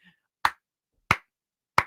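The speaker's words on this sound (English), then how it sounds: "I have to clap for that" Three sharp, evenly spaced hand claps, close and distinct against near silence, with no talk.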